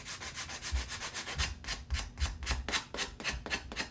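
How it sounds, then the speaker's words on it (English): Paper card edges are rubbed with a sanding block over a trash can, a quick steady series of rhythmic scratchy back-and-forth strokes, close and fairly quiet, with no talking. "Now, what I'm gonna do with this is I'm gonna sand the edges"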